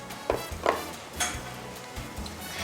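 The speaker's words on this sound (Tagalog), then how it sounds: "ang ating tanglad, ang luya po. luya. Ating po itong igigisa ngayon" Lemongrass and ginger sautéed in a pan give a soft background sizzle broken by a few sharp utensil clinks and scrapes against the pan, close by and without talking.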